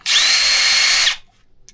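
A Milwaukee subcompact drill spins up in drill mode at speed 2, giving one steady high-pitched motor whine for about a second before cutting off, close and loud with no talk.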